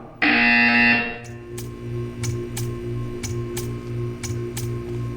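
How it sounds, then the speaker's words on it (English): A loud electronic buzzer tone in the video game Portal 2 sounds for about a second, followed by a steady repeating ticking pulse with a low hum underneath. "You will hear a buzzer."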